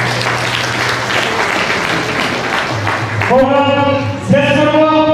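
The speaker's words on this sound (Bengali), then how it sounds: "আবার একবার হাততালি দেন" An audience at an RCM celebration event applauds in a sustained wash of clapping, then a voice speaks over the fading applause in the second half.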